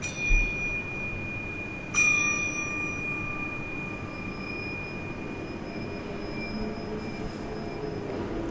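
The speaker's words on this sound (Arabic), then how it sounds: "تستخدم الجرس" A temple bell at Senpou Temple in the Sekiro video game is struck twice, each a sharp metallic strike followed by a long sustained ringing tone over a steady low ambient rumble.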